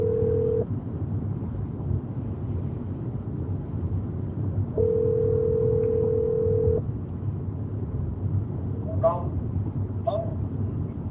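A steady telephone dial tone sounds in two stretches, a short burst at the start and a longer two-second hold midway, over a constant low rumble of background noise with a few faint higher chirps near the end.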